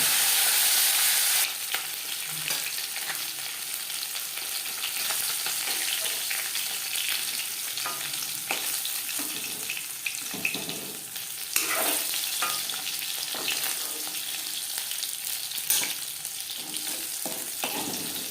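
Fish, including fish heads, lightly frying in oil in a kadai gives a continuous close sizzle with occasional pops and soft stirring knocks, the hiss holding steady throughout.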